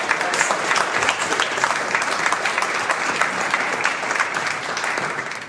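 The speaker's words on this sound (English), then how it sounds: "I would all really appreciate it if you give them a round of applause." A seated audience breaks into a full round of applause, a thick, even wash of clapping that holds steady for several seconds before starting to fade.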